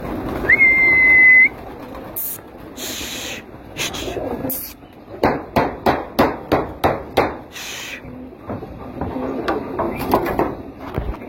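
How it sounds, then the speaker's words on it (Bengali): Pigeons being let out of their coop, with a quick burst of wing flaps and then a rapid run of sharp rhythmic flapping or clattering, close by, followed by softer rustling and faint cooing. "আমি কবুতরগুলো আগে ছাড়ি"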